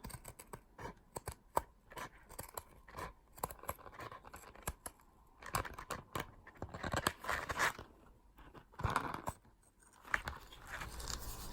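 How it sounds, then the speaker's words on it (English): Scissors snip through fabric along a chalk line while hair bow pieces are cut out, giving a dense run of crisp, close cuts with short pauses and no talking. "So just inside that chalk mark, as you can see, I'm cutting that out."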